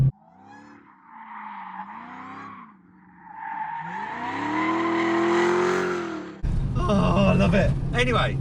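A Dodge Challenger Demon's engine revs in two short rising bursts, then climbs into a long, loud wail before a harsh, noisy roar takes over. Someone talks briefly at the end.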